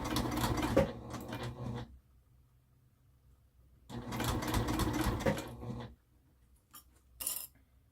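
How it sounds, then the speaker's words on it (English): A sewing machine stitching around the edge of an upcycled hot pad, two bursts of rapid mechanical stitching separated by quiet, then a few short clicks at the end, close and clear with no talk. "And just keep sewing that till you meet the other end where you started out."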